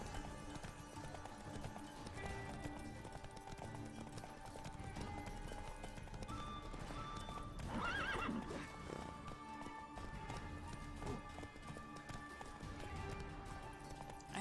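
Horse galloping in The Witcher 3 video game, steady hoofbeat clip-clop with occasional whinnies over a continuous music score, someone speaking faintly underneath.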